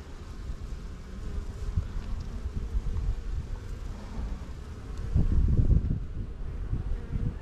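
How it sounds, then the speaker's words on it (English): Honey bees buzz steadily in an open hive frame during a summer hive check, a close, continuous hum that swells louder near the end. "there's just a lot of bees in here"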